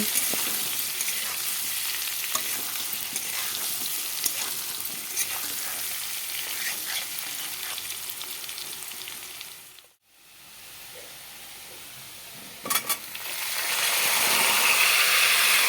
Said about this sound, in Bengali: নুন হলুদ দিয়ে এখন আলুগুলোকে ভেজে নেব